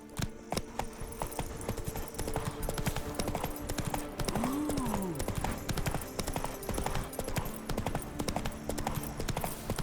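Steady clip-clop of horse hooves from Roach, the horse in The Witcher 3: Wild Hunt's Blood and Wine expansion, rhythmic and continuous over a busy game soundscape, with a brief whinny-like tone partway through.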